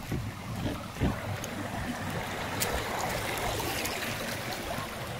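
Water rushes steadily along a hillside irrigation canal in rural Khotang, a continuous close gurgling flow with no voices.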